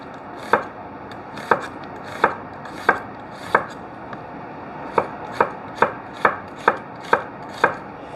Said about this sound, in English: I'm cutting these onions so they're kind of long and skinny like that